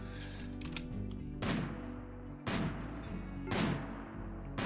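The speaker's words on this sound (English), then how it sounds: "Okay, so Dragon's got the assault rifle, Zero with the charge, and Ash apparently is really slow with the sniper" RimWorld combat with an assault rifle and a sniper rifle, three sharp crackling shots spaced about a second apart over a steady low game hum.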